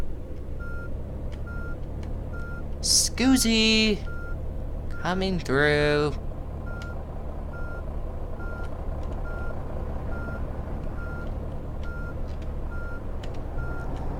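A coach reversing in Fernbus Simulator, its reversing beeper giving a steady series of short, evenly spaced beeps over a low engine hum, while someone talks briefly over it.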